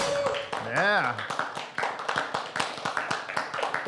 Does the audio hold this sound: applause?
yes